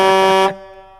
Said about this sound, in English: I know Cage Fighter loves to just drop one long honk